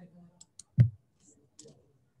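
A single sharp computer mouse click during payroll data entry in Tally ERP 9, standing out once near the middle between brief stretches of quiet talk.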